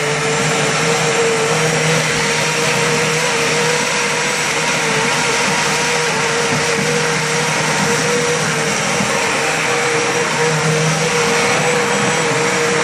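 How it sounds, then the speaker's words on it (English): A loud, steady motorized whir of a powerful industrial blender running continuously, blitzing curry base gravy, a constant high-pitched drone with no pauses. "I'm going to put our industrial blender in here."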